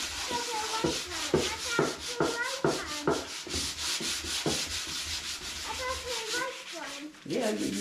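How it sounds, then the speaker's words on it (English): Sandpaper rubs across wood in quick, regular back-and-forth strokes, close and continuous, while a voice talks faintly in the background now and then. "So you just keep sanding."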